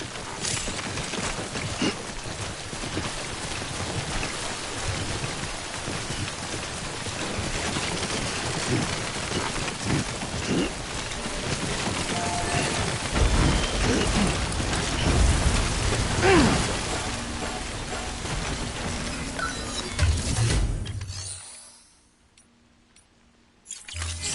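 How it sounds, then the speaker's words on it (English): Timefall rain in the video game Death Stranding, a steady broadband downpour with mechanical rumbles that lasts about twenty seconds, then cuts off into near silence. "Don't stay out in the rain any longer than you have to."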